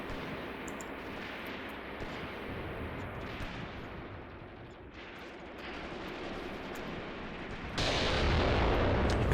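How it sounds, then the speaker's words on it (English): Artillery fire in the video game Graviteam Tactics, a dense, continuous roar of distant booms and rumbling blasts that swells louder toward the end. "Here comes our artillery."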